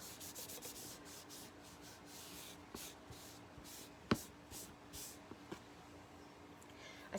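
Wax being buffed by hand onto a surface with a star cutout, a steady close rubbing and scrubbing in repeated strokes, broken by a few faint knocks, with no talking.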